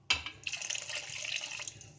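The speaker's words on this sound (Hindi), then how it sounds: "पानी इसमें थोड़ा सा और डालेंगे" Water pours into a vegetable korma while cooking, a steady splashing trickle that starts abruptly and runs on alone, fairly close.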